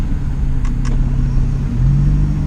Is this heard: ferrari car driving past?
yes